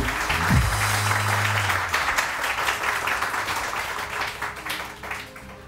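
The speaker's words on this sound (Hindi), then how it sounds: "डॉक्टर साहब के लिए बहुत सारी तालियां यार, कमाल है" Studio audience at a morning talk show bursts into sustained applause for a doctor guest, a dense wash of clapping that holds steady for several seconds before easing slightly near the end.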